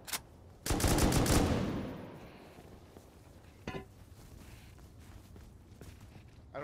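A close burst of video game gunfire aimed at a turret roars for about a second, then decays into a quieter rumble, followed by a brief second burst.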